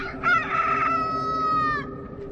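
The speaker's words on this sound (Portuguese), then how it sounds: "o galo cantou" A rooster crows once, a loud, close, drawn-out cock-a-doodle-doo with a rising start and a long held tone that fades at the end, alone with no talking.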